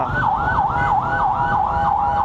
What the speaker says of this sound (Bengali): ওই আরও আসতেছে অ্যাম্বুলেন্স